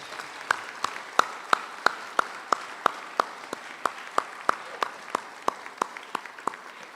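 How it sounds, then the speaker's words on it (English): School assembly audience at Subiaco Academy claps for scholarship recipients and donors, sharp separate claps in a slow, fairly even rhythm, roughly three per second, crisp and close against a quiet room. "Can we have a round of applause for all these wonderful scholarships and donors?"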